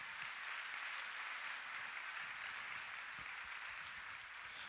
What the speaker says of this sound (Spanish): Dele un fuerte aplauso al Señor en esta mañana